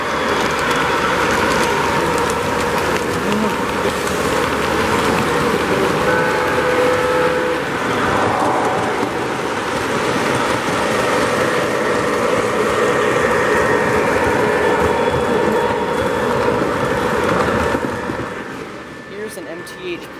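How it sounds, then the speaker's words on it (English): An MTH Premier Line Norfolk Southern SD60E model locomotive pulls a mixed freight train around a Christmas layout, giving a steady, loud rolling rumble that lasts throughout, with crowd murmur mixed in before it fades near the end. "Here we see Railfan Thomas's MTH Premier Line Norfolk Southern SD60E number 911 pulling a mixed freight train."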